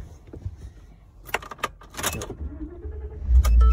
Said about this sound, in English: you'll start the truck up by turning the key